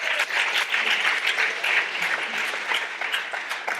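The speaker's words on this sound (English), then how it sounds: "deserves a big round of applause." Steady applause from an audience at a school morning meeting, dense and continuous for several seconds at moderate loudness with no talk over it.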